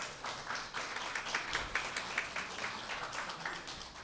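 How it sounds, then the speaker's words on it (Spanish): A church congregation claps together to welcome visitors during a Spanish-language service, a dense, steady patter of many hands filling the room at moderate volume. "Vamos a darle un fuerte aplauso."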